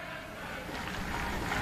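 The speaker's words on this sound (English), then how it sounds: "the fans cheering on their home team, trying to give their support as they're down 1-0 in the 18th minute" Soccer fans at an Austin Aztex versus Midland/Odessa Sockers match cheer on their home team while trailing 1-0, a steady, broad crowd roar held at an even level throughout.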